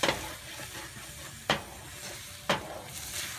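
Eggplant and egg are sautéed in a pan, a quiet low sizzle punctuated by three distinct spatula scrapes spaced about a second apart, with no voices.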